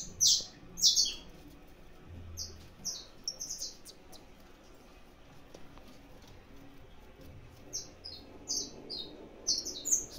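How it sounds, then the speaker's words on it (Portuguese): Saffron finches (canário-da-terra) chirp in short, high bursts inside a breeding aviary. The calls come in scattered clusters over a quiet, low rumble, loudest near the start and the end. "ele vai atrás do corricho da fêmea"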